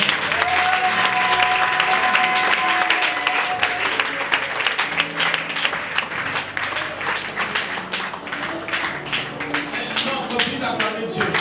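Congregation at a church service applauding loudly and steadily, with dense continuous clapping and occasional cheers, a voice briefly rising over the crowd near the start.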